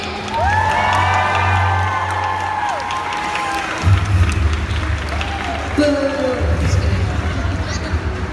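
A convention audience at a Chicago fan event cheers, whoops and applauds for actor Brett Dalton, a loud sustained crowd roar with shouts and claps that swells again midway and continues throughout.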